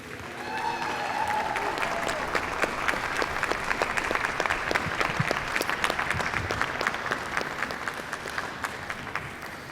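Dense, loud audience applause fills a hall at the 2015 Spectre cast presentation as the new Aston Martin DB10 is revealed. The clapping is steady and continuous throughout, with a faint crowd murmur underneath.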